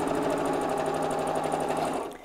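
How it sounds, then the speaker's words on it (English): A sewing machine stitches steadily through several layers of chenille fabric for a clutch bag, its rapid needle rhythm close and continuous before slowing to a stop at the end. "you've got a needle up down function on your sewing machine, then use it to keep your needle down as you sew"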